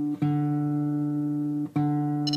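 A single guitar string rings out steadily, plucked twice, its pitch settling as it is tuned to D; clear and close with no talking.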